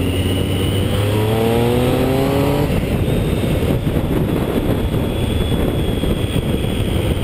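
A 2012 Triumph Street Triple R 675 motorcycle engine revs high and roars loudly, its pitch climbing in rapid steps through the gears from 70 to about 98, then settling into a steady, rushing drone with heavy wind noise.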